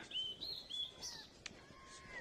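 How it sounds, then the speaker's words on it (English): Large birds calling outdoors along a seaside walk in Benidorm, several short high chirping and whistling calls spaced irregularly, moderately faint over a quiet background with no talking. "What's those big birds?"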